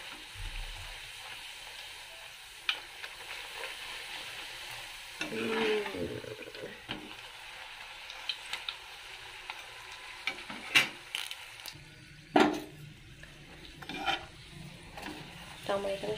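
Luchi deep-fry in hot oil in a kadai with a low background sizzle, while intermittent scraping and stirring knocks and a few sharp utensil clatters come up close.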